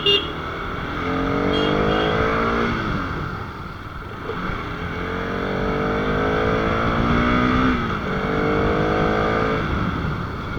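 A 2024 Bajaj Pulsar RS200 motorcycle engine and exhaust under riding load, rising through the revs, dropping at a gear change and climbing again, loud and close with no speech.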